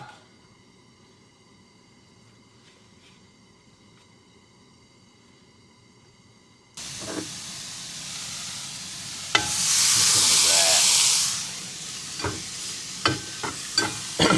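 Steak sizzles loudly in a hot pan at a winter truck campsite, a steady frying hiss swelling after a quiet start, then settling into crackles and pops as pieces are stirred.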